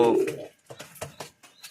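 Lotan pigeons coo in a series of short, soft throaty pulses, close by, after a brief louder burst at the start, with some background noise between calls.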